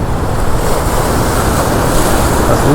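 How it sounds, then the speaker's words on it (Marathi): Loud sea waves crash and surge continuously on a shore where people are fishing with hook and line, with heavy wind noise on the microphone and no voices. "लाटा भरपूर यायला लागल्या सांभाळून जायला पाहिजे"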